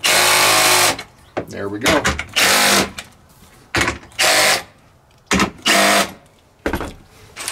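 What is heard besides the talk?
power drill driving self-drilling screws to install solar panel brackets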